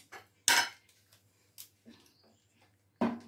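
A spoon scrapes and knocks against a pot of thick Rajasthani maize raab, a few separate clinks and scrapes with quiet gaps between them.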